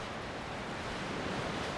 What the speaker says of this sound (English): Waves crashing in the darkness.